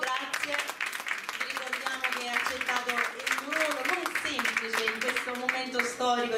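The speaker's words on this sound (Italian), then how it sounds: "Ancora un applauso." Audience applause at a masterclass with actor Lino Guanciale at CasaSanremo, steady clapping running under a voice that keeps talking throughout.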